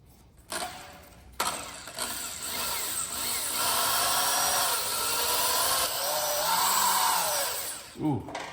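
A power drill starts up and grinds hard into a metal head bolt on a 1965 Ford Galaxie 500 for several seconds, its whine rising and wavering, then cuts out abruptly near the end.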